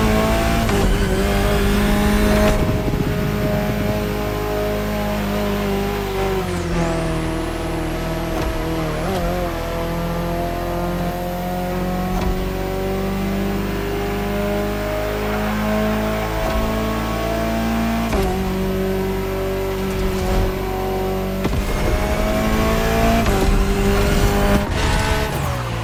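An Alpine A110 race car in The Crew Motorfest driving hard, its engine revving loud and constant through gear changes, with tire squeals and skids, heard close and without talk.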